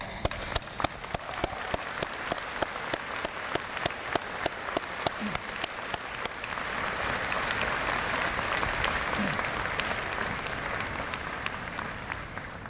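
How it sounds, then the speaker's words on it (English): At a university convocation, the audience applauds graduates' families. Sharp, rhythmic claps come first, then swell into a sustained, dense wash of clapping from a large hall crowd that carries on steadily for several seconds. "Please join in me in applauding the support that they have given you."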